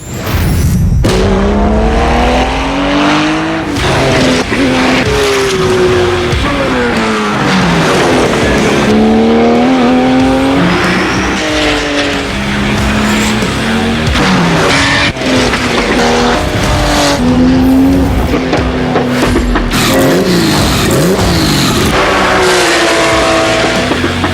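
Porsche race car driven hard on a track, its engine loud and close, rising and falling through gear changes and revs, with repeated tire squeal and skidding through corners across a long continuous run.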